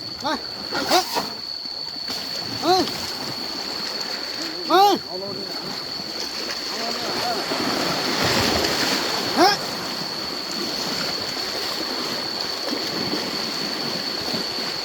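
Elephants, a mother of twins and an older female, play in water, making several sharp splashes over a steady wash of moving water, with people talking and calling throughout.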